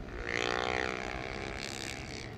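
A blue and white GPR250 racing motorcycle passes on a track during qualifying, its engine a loud, steady, harmonic whine that swells slightly early and then holds, with no voices on top.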